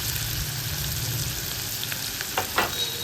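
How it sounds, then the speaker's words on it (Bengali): Chopped onion hisses and sizzles as it fries in hot oil with cinnamon and cardamom, a steady close crackle with a few brief stirring scrapes near the end. "আর কুচনো পেঁয়াজটা দিয়ে দিচ্ছি"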